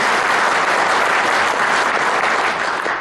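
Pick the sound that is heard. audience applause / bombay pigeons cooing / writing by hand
audience applause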